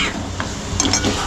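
Ginger-garlic paste sautéing in a pan in a home kitchen: a steady close sizzle with scraping stirring strokes from a utensil against the pan.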